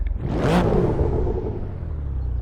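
Alfa Romeo Giulia Quadrifoglio with a 2.9 V6 bi-turbo engine and manual gearbox on the Nordschleife, a loud rumbling engine swelling as it passes with a whooshing sweep, then a steady lower drone.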